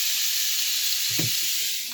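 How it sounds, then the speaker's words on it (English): Diced Dollar Tree steak sizzles in a Red Copper pan, a constant bright hiss with one brief soft thump of stirring midway, moderately quiet and with no one talking. "Got the old diced steak going here in the red copper"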